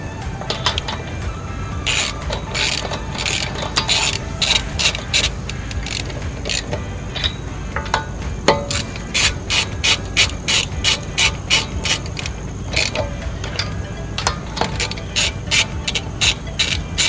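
Lug nuts being tightened onto new wheels on a Honda Civic Si, a ratcheting wrench clicking in fast repeated bursts close up, with short pauses between runs as each nut is driven home.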